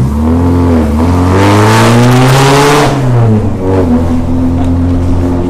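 A Morgan 4/4 with an aftermarket exhaust revs hard nearby in narrow village streets of Aubigny, engine note rising to a loud peak then easing back to a steady rumble.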